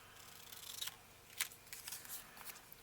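Scissors cut through a vintage music sheet paper in a handful of faint, close, crisp snips over a quiet background.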